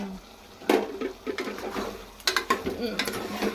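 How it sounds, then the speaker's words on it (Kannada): Chicken frying in a pan at home, with scattered clinks and scrapes of a utensil against the pan over a soft sizzle, a few sharp stirring bursts near the start and again near the end. "ಫ್ರೈ ಆಗ್ತಾ ಇದೆ. ಚೆನ್ನಾಗಿ ಫ್ರೈ ಆಗಬೇಕು."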